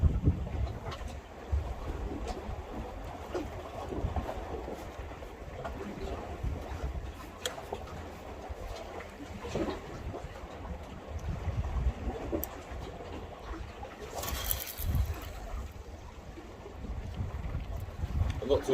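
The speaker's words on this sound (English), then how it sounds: "The wind's picked up, but it does calm down about 11 o'clock I think." Gusty coastal wind buffets the microphone on a Devon shoreline during rock and pier lure fishing, a steady broadband roar with swelling louder gusts throughout and no speech.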